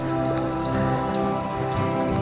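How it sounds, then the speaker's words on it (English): Steady rain pattering down on a hiking trail near Hidden Lake outside Leavenworth, a continuous dense wash of drops on foliage and ground, fairly close and even in loudness with no talk. "rain is starting to come in a little bit heavier"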